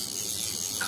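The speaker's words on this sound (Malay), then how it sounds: "Yang ni ada audible drag clicker sound." A 2025 Shimano Aldebaran DC 31 HG fishing reel drag clicker gives a brief, steady, fast ratcheting buzz, close and fairly loud, with no voices.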